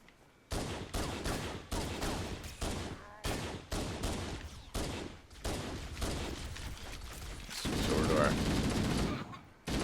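Rapid rifle fire in Halo: The Master Chief Collection rings out in repeated bursts of sharp shots, then a longer sustained stretch of shooting, close and loud, while someone talks over the action.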